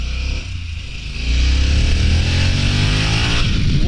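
A 2022 Harley-Davidson Pan America Special motorcycle pulls hard under acceleration, its loud engine note climbing and sustained after a brief dip, close and steady with no talking.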